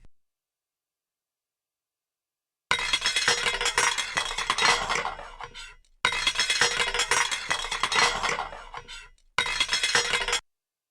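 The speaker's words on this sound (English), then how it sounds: "get over there in that kitchen and rattle them pots and pans" Pots, pans and dishes clatter and clink in a kitchen in the Torin's Passage video game, three loud bursts of metallic and glassy rattling separated by brief silences after a quiet start.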